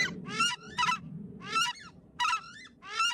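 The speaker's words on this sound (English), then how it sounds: "They get that name because they let out a loud scream whenever they encounter something new." A screamer bird lets out loud, harsh, goose-like honking screams in five evenly spaced bursts, close and dominant over a low rumbling background, with no talking.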